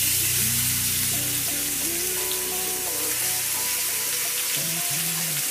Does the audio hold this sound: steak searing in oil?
yes